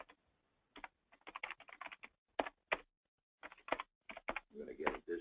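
Computer keyboard typing during a login at an office training session, in irregular bursts of close, crisp key clicks with short pauses, the final stretch busier and denser.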